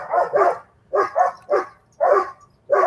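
A neighbor's three German Shepherds bark in short paired bursts, about five volleys in under three seconds, loud and fairly close with brief quiet gaps between.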